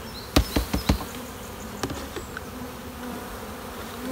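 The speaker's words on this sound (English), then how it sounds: "i half a cup of bees. They're going in there." Honey bees being scooped from a hive at roughly half a cup, giving a run of close, sharp taps and clatter up front and a softer spatter later over a steady background hum.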